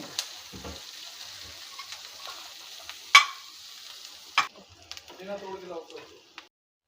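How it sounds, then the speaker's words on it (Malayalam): Chopped onion sautéing in a pan for a mixed dal curry, a soft sizzle with occasional stirring scrapes and clinks that fades toward the end, with a voice speaking briefly. "സവാള ഇട്ടതും കൂടെ കൂട്ടി നമ്മളിത് വഴറ്റുകയാണ്"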